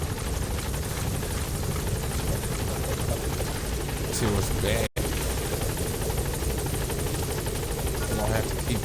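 Support helicopter in Metal Gear Solid V: The Phantom Pain, a steady rotor drone holding close and loud throughout, with brief speech over it.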